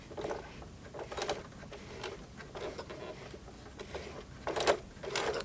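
A Singer Heavy Duty sewing machine stitches through the thick hem of a pair of jeans, giving a rapid, faint mechanical chatter in short uneven runs. The needle thumps louder near the end as it crosses the hump of the hem.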